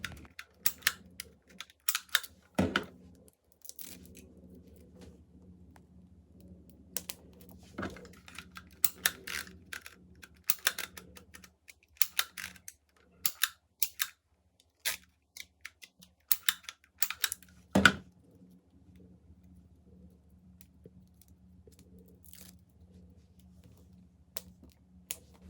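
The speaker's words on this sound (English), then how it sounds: "which is this vintage style label maker. And I'm going to type out Halloween 2022." Crisp mechanical clicks of a vintage-style label maker being typed on, a steady run of sharp presses and snaps over a low hum, close and fairly quiet, with no talking.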